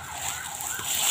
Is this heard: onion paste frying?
no